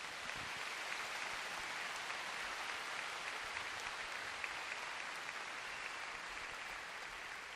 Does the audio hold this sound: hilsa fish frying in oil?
no